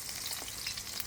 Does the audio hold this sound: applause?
no